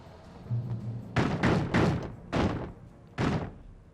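Heavy knocking on a door in the horror video game Alan Wake Remastered: four loud, close thuds in uneven succession, two quick blows then two spaced ones, over a quiet low game ambience.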